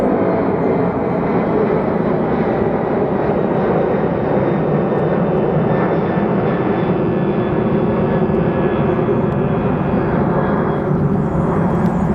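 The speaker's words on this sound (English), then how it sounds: "Our little Embraer that flies in between LAX and Phoenix all the time." A small Embraer passenger jet at Phoenix Sky Harbor airport gives a steady, loud, broadband engine roar that holds evenly throughout, with no talk over it.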